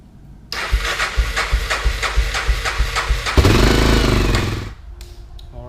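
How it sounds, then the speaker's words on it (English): A 1988 Honda NX 650 motorcycle engine cranks with rapid rhythmic pulses, then catches and roars loudly at close range before settling toward a steady idle, heard alone. "we're going to start the motorcycle up and let it run for a couple minutes"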